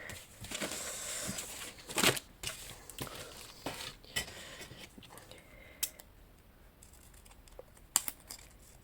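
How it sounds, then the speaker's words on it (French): Scissors snipping through paper foliage cutouts while a spring moodboard is assembled, a few sharp close snips and crinkles at about 2, 4 and 8 seconds over quiet handling noise. "Ciseaux."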